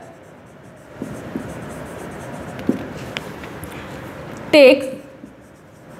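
A pen or pencil scratching out an answer during a class on computer hardware, a few soft scattered strokes ending in one louder, longer scrape, heard close up beneath a spoken word.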